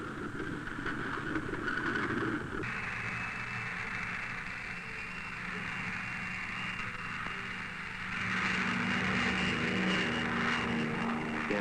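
A P-38 plane equipped for cloud seeding roars with a steady propeller-engine drone that shifts in pitch and swells louder toward the end as it takes off, with no voices.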